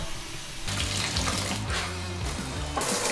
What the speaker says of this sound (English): Oh, got a leaky shower head.